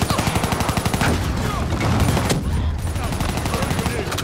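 Rapid bursts of automatic gunfire in the Call of Duty Black Ops 3 campaign rattle on nearly continuously, loud and close, with a short break midway before the firing resumes.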